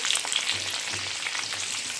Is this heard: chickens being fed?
no